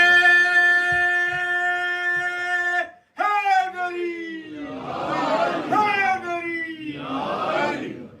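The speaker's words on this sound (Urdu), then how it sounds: "نعرے" Slogans chanted at a Shia majlis mourning gathering: a loud, sustained lone voice calls out first, then the crowd answers with rougher massed shouts in two surges.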